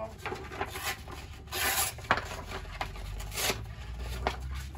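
A Volkswagen Golf Mk2 part sanded by hand with 600-grit sandpaper, producing soft, irregular rubbing and rasping strokes up close, fairly quiet, with faint background hum.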